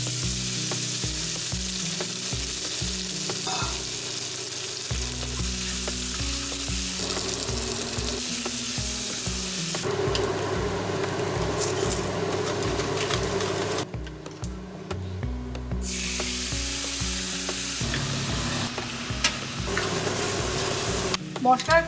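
Spice paste made with sugar and water sizzles in hot salted oil for ghugni, a steady frying hiss broken by stirring and scraping in the pan, fairly close and continuous with only faint talk.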